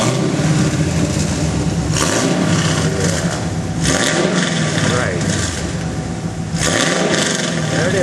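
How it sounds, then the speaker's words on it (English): A 2010 Chevrolet Camaro SS V8 with a newly fitted Edelbrock X-pipe crossover on its headers revs repeatedly in loud throttle blips that rise and fall over a rumbling idle, with brief voices in the background. "now we're going to listen to see what it sounds like"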